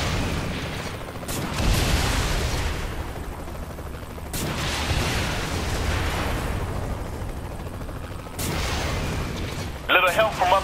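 Gunfire in the Saints Row 3 video game, a dense rumbling barrage of shots and booms running throughout, with speech mixed in over the loud battle noise.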